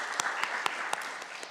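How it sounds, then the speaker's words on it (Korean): Congregation applause welcoming newly ordained deacons during a New Year thanksgiving service at an air force base church, a steady crowd clapping with scattered sharper individual claps standing out throughout. "우리 환영의 박수 다시 한번 하겠습니다"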